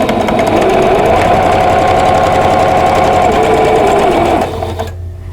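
A sewing machine chain pieces quilt block rectangles in one continuous loud, close, steady whirring run that stops abruptly near the end, leaving quiet.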